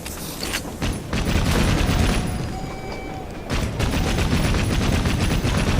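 Rapid gunfire in Assassin's Creed Syndicate, dense crackling volleys that run almost without pause at close, loud range, with mechanical rattling mixed in.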